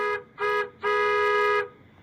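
A comedic horn sound effect honks three times, two short toots followed by one longer blast, bright and loud, alone.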